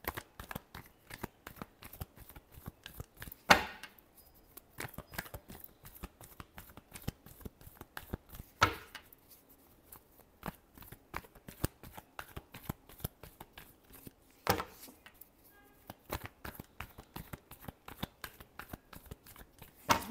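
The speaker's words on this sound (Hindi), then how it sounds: "Last shuffle." Tarot cards being shuffled by hand, a close, soft series of riffling flicks and crisp slaps repeating in bursts over twenty seconds, quiet between shuffles, with no talking.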